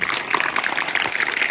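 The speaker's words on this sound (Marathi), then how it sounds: "जोरदार टाळ्या. टाळ्याचा आवाज कमी येतोय तुमचा." A crowd of students and guests claps at a school Independence Day prize ceremony, giving a dense, steady burst of applause that carries on without letting up through the whole moment.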